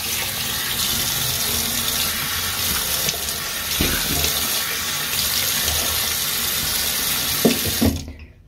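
Tap water running steadily into a sink while someone washes their face, with a few splashes and handling knocks before the flow shuts off abruptly at the end.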